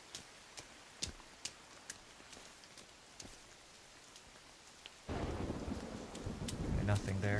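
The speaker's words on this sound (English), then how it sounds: "Okay, the thunder is very cool. I like how it sounds like." In the video game Sons of the Forest, soft rain patters with sharp, scattered cracks of thunder, followed by a sudden, louder burst of rumbling storm noise toward the end.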